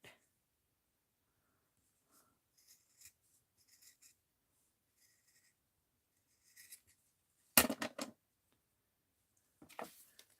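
Scissors fussy-cutting paper for a mixed-media art journal. Faint scattered rustles and scrapes of paper give way to a few short, crisp snipping bursts near the end.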